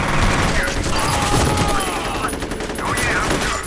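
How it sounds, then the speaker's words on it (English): Bursts of rapid video-game gunfire in a military shooter crackle continuously for a few seconds, with a voice talking over the shooting. "We're taking fire."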